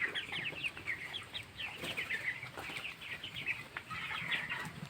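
A flock of 19-day-old broiler chickens in a poultry house keeps up a continuous chorus of overlapping chirps and cheeps, with some rustling and wing flapping beneath, close and moderately loud.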